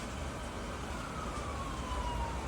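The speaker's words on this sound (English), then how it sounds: "I almost feel like those ambulances that keep going through, or the sirens, that is part of this reading" Ambulance sirens passing outside, a faint wailing tone gliding downward over a low traffic rumble, distant and muffled, with no speech.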